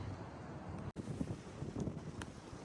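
Steady wind buffeting a microphone outdoors beside a canal, a broad rushing roar with a brief dropout partway through and gusty swells.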